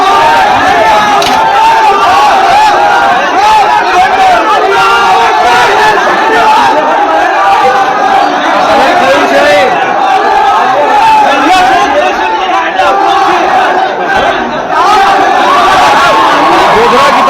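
An angry crowd packs a police station, a loud, continuous roar of shouting and agitated chatter that never lets up, with many overlapping voices close by.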